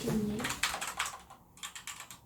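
Quick, close-up clicking of keys on a Monster computer keyboard, irregular bursts of taps with brief pauses between them.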